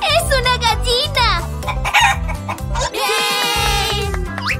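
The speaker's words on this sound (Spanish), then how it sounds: "¡Es una gallina!" A cartoon hen and rooster from a children's egg-opening show cluck and crow in bursts over a loud, bouncy music bed, with a child-like character voice speaking between the calls.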